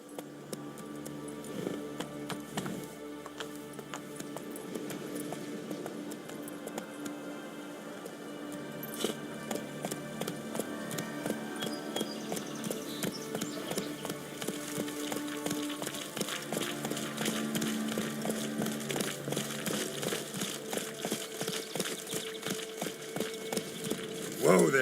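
Roach, the horse in The Witcher 3, gallops in a rapid, steady clip-clop of hooves that runs the whole time and builds a little louder later, with music underneath.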